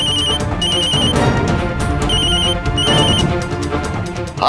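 A telephone rings in a tense indoor drama scene, its repeated bursts of electronic ringing in short evenly spaced pulses sitting over a loud, dense music score throughout.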